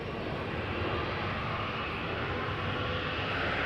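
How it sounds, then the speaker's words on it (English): A Delta Airlines Airbus A330-900neo, about four years old, departs Amsterdam Schiphol for New York JFK with a steady, broad engine roar that stays fairly distant and even throughout, with no talk over it. "So this is Delta Airlines flight 49 going out to New York JFK. It is an A330-900 Neo"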